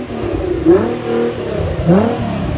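A Nissan GT-R engine revs hard twice in a loud, close roar, each rev rising and falling away, with no talking.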